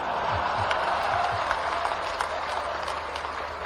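Applause from an audience at a state-level conference of panchayat secretaries, a steady broadband patter of clapping held at moderate distance throughout.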